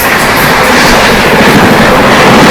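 An Indian Railways Dibrugarh Rajdhani train roars past at Khaga station, very loud and close, with dense rumble and rapid clickety-clack of wheels over rail joints filling the whole stretch.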